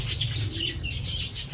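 Pigeons kept in a home loft with their eggs and chicks, heard in a short close burst of chirps and a soft wing flutter over a low hum.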